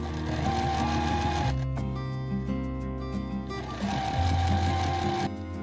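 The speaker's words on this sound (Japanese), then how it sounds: "裏布も 240×270 センチになるように縫いつなげます。" A sewing machine joins large panels of quilt backing fabric for a patchwork sofa cover, its motor whirring steadily and close for several seconds with a short change in pitch midway.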